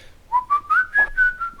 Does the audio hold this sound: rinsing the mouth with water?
no